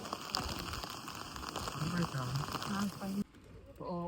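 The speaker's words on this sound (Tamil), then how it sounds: "மழை வேறு செம்மையாக பெய்யுது." Heavy rain falls in Galway while people wait outdoors for a taxi, a dense continuous patter and hiss with voices talking over it before it cuts off near the end.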